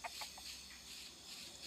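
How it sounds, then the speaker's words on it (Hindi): A Minecraft chicken clucks in a few quick, faint bursts over a steady game background hiss, with no talking. "अबे मुर्गी कोमड़ी"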